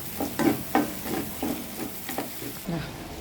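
Macaroni being stirred in a pan for Indian-style masala pasta, a few soft scraping strokes with a faint sizzle beneath, quiet and close, each stroke a short separate burst.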